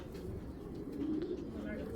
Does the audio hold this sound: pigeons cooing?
yes